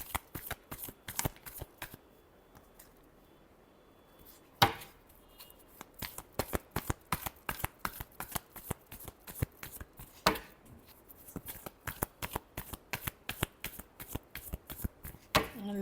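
Tarot cards are shuffled by hand in rapid bursts of crisp riffling slaps, close and fairly quiet, with a pause before the rhythm picks up again and continues steadily.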